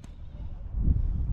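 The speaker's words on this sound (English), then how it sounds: "That is goat. That was not sheep." A goat bleats briefly on a hillside in College Valley during a November hike, a single faint call over low, rumbling wind noise.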